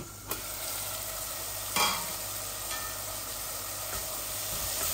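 Shrimp fry in a pan with chili and spices and are stirred now and then. A steady, close hissing sizzle carries on throughout, broken by a few sharp scrapes and taps from the stirring, with no talking.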